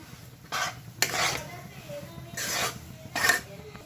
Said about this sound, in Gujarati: જે આપણે ગોળ પીસી કાઢ્યો છે તે અંદર એડ કરી દઈશું બધો અને આ રીતે સરસ રીતે હલાવી દેવાનું છે